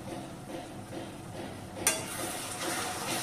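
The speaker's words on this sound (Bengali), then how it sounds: "এরপর মশলাটা ততক্ষণ কষাতে হবে" Masala with cashew and melon seed paste sautéing in a pan, a steady close sizzle with light stirring and one sharp scrape of the spatula against the pan.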